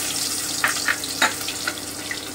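Crushed garlic dropped into hot mustard oil in a pan, giving a faint steady sizzle with a few brief crackling pops, alone without talk.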